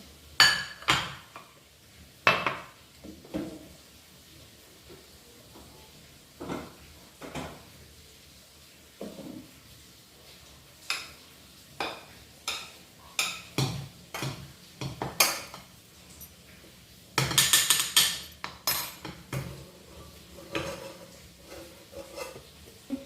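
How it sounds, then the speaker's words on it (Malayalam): Noodles scraped and served from a pan onto a plate in a home kitchen: repeated close metallic scrapes, clinks and taps of utensil against pan and plate, irregular bursts with brief pauses between, no talking. "പ്ലേറ്റിലേക്ക് എടുത്തിട്ടുണ്ട് കേട്ടോ"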